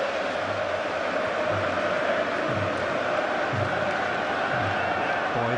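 A football stadium crowd at a Scotland v Lithuania match roars after a goal, a dense continuous wall of cheering and shouting at steady loudness with a commentator's voice faintly underneath.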